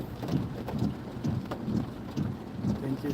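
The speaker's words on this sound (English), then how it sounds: "It's raining." Rain falls steadily around a Kia Forte on a Houston street, a continuous patter and hiss with faint low rumbles pulsing underneath.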